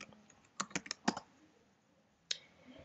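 Keys on a computer keyboard being typed in a short burst of about seven clicks, followed by a pause and one final keystroke, close and fairly quiet against faint room hiss.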